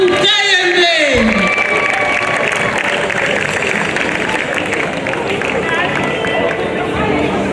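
A crowd at a gospel worship and comedy show applauds performer Fatou Kayembe with loud, dense, sustained clapping and cheering that follows a brief amplified voice at the start.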